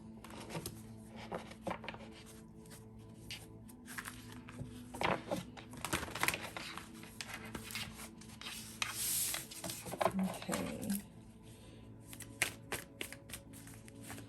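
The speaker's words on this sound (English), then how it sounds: "Have a little shuffle." Tarot cards are shuffled by hand up close, a quiet run of irregular soft riffles, taps and rubbing sounds with brief louder bursts, no talking over it.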